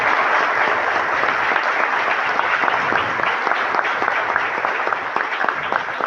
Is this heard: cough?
no